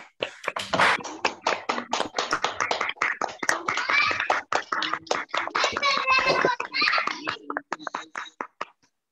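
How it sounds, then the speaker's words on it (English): Scattered clapping from an online audience after unmuting, uneven and irregular claps from several participants heard close with a few faint voices mixed in, tapering off toward the end. "I would request everyone to unmute themselves and give a big round of applause to sir."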